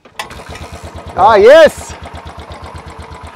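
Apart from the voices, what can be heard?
Royal Enfield Bullet 500 motorcycle engine kick-started and running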